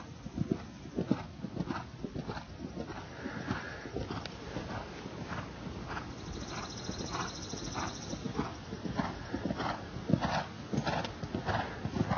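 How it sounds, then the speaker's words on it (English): A horse trots around a riding arena at a clinic, its hooves clip-clopping in a steady, fairly close rhythm with no talk. "Tootie, clearly your horse was just charging along too much"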